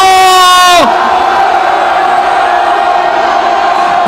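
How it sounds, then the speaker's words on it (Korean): A crowd shouts and cheers at a political rally launching a presidential citizen defense team in Korea. A loud falling horn-like tone opens it, then a sustained, dense roar of many voices continues to the end. "승리의 함성을 질러주십시오"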